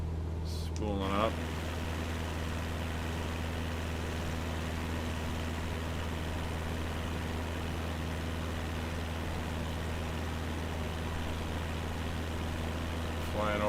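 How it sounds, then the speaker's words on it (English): Small aircraft engine drones steadily and loudly throughout during a low flight over trees toward a lake, a continuous hum with a voice speaking briefly near the start and end. "This engine keeps spooling up."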